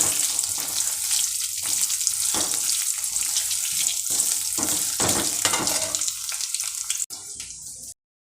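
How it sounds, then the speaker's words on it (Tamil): Curry leaves, ginger and asafoetida fry in hot oil for a pongal tempering, giving a steady close sizzle with stirring clatter for about seven seconds before it drops and stops. "கருவேப்பிலை இதில் போட்டுக்கலாம். நல்லா கருவேப்பிலை வதங்கணும்."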